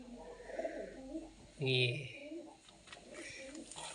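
A pigeon gives a short cooing call amid outdoor ambience, with people talking quietly before and after it.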